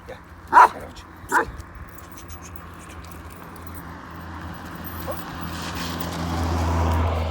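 An old Kangal-type dog lets out two sharp barks near the start, then ambient noise and a low rumble like a passing vehicle build gradually without more barking.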